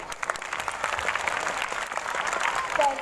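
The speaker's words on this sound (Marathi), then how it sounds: "सुनील जाधव सर व सुशांत पवार सरांसाठी आपण जोरदार टाळ्या वाजवूयात" An audience at a school annual gathering in Vasai Road claps in a dense, even patter, with a voice speaking over the applause the whole time.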